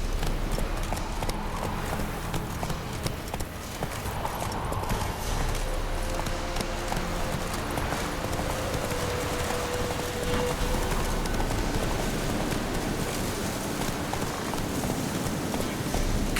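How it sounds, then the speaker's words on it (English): Horse hooves clip-clop steadily in a video game, a continuous rhythmic clatter of footfalls over a dense ambient background, with no talk. "Whoa there, Roach."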